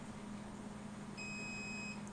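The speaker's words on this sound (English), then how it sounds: "When I send it, we're going to hear a little beep," A K40 laser cutter with a DSP upgrade gives a single short, thin electronic beep to confirm a job has been received, faint over a low steady machine hum.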